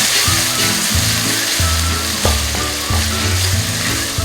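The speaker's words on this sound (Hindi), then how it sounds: "इधर मैं इसमें ये टमाटरों का पेस्ट शामिल कर दूँगी, साथ ही मैं इसमें ये अदरक लहसुन का पेस्ट शामिल कर दूँगी और इसको थोड़ी देर मैं भून लूँगी।" Tomato paste and ginger-garlic paste frying in an onion gravy for chicken kofta, giving a close, continuous sizzle broken by rhythmic scraping clacks of stirring.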